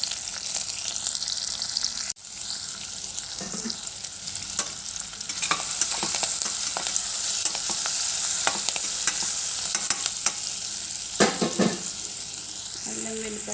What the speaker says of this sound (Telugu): అల్లం వెల్లిపాయ పేస్ట్ వేసి మంచిగా మగ్గాలి